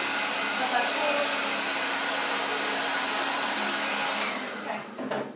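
During a blowout of curly, coarse, frizzy hair, a blow dryer roars close and steady for about four seconds, then cuts off, leaving faint rustling handling noise.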